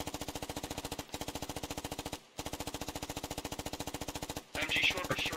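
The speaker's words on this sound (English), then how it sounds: "MG, short burst, short burst." Machine gun in the video game Squad fires sustained rapid bursts, very regular and dense, broken by three brief pauses, with a sharper burst of noise near the end.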